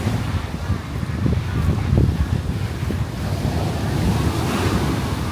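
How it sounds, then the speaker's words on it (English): Strong wind buffets the microphone on a beach in a steady, loud, rumbling roar, with surf washing in under it and no talking. "and it is windy."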